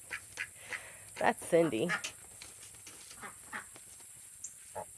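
Homestead ducks and geese quack and honk in a brief loud cluster while eating watermelon, with a person talking nearby between the calls.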